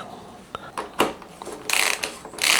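A bicycle bottom bracket is tightened with a ratcheting tool, giving a few sparse, close clicks followed by louder rasping ratchet bursts near the end.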